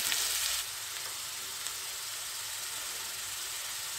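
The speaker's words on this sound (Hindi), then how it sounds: "अब हम इसमें चॉप अनियन ऐड कर देंगे और इसे भी हमें हल्का सा फ्राई करना है।" Chopped onions sizzling in a hot pan for fried rice, a steady loud hiss of frying that flares briefly at the start and then settles into an even crackle, with no voices.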